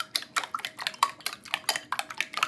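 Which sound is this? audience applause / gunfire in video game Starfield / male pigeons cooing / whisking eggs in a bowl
whisking eggs in a bowl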